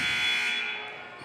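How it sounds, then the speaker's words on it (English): A loud, steady electronic buzzer sounds at a high school girls' basketball game, holding at full strength and then fading a little before it ends. "buzzer goes"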